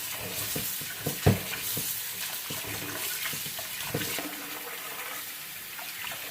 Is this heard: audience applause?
no